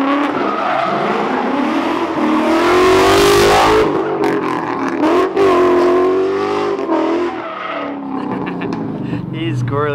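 A 2012 Ford Mustang 5.0 with bolt-on modifications roars loudly close by, its engine note rising and surging in hard revs with possible tire chirp, while people shout and cheer over it.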